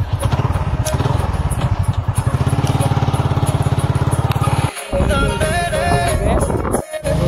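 Close motorcycle engine at steady running speed with a fast throbbing exhaust, then revving and shifting as the ride gets underway, with wind buffeting the microphone.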